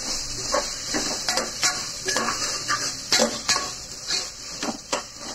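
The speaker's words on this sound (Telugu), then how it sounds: "కొంచెం మిక్సర్ కలుపుకుని ఒక 2 నిమిషాలు ఇలా ఫ్రై చేసుకోవాలి" Vegetables with tomatoes, mint and coriander are stirred and fried in a pot for Telangana bagara rice, with repeated metal spoon clinks and scrapes over a soft sizzle.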